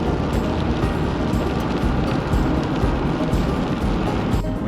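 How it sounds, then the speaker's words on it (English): Rain heard from inside a moving vehicle on a road toward Augrabies Falls: a steady, loud, dense wash of drops and road rumble, continuous throughout without a break. "It's raining"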